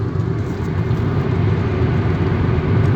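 Hyundai Accent Blue 1.6 CRDi diesel car cruising on a flat road at about 100 km/h, heard from inside as a steady low engine drone and road rumble, loud and unbroken, with no talk.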